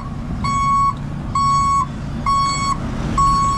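Truck reversing alarm beeping four times in a steady rhythm, each tone about half a second long, loud and near over a low rumble of busy traffic with many vehicles.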